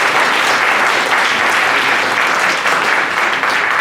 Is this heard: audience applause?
yes